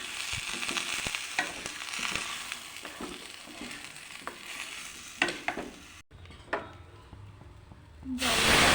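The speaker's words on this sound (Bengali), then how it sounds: "এবার ভেজে নেবো ভালো করে।" Cumin powder and ginger paste frying in a pan for khichuri, with a steady crackling sizzle, repeated scraping stirs and clinks, and a brief dropout near the end before a louder burst of hiss.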